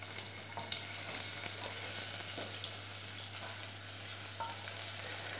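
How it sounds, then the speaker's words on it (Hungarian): Onion sizzles in hot olive oil in a pan while a Hungarian rice dish is being cooked, giving a steady, close, continuous frying hiss and crackle with no talking. "Ahogyan átmelegszik az olívaolaj, teszünk hozzá hagymát, és már is halljuk,"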